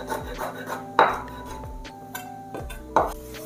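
Knife finely chopping a peeled garlic clove on a board, a series of distinct repeated taps with a few louder knocks, close and clear with no talk.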